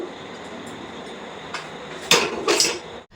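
Helencha greens and mourala fish curry poured from a metal pan onto a plate, a few sharp clinks and scrapes of metal on the plate late in the clip after a quiet stretch of background hiss.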